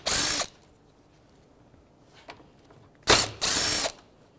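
A hand ratchet with a 12mm socket loosens the condenser mounts on a Toyota RAV4. It gives a short burst of rapid clicking, a pause with faint handling taps, then two more close, loud clicking runs.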